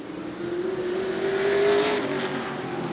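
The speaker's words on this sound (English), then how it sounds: "Second Superstock heat set to roll out" Superstock race cars roll out onto a short oval track for a heat, their engines droning and rising in pitch as the field gets underway, with a broad rush of noise swelling and fading.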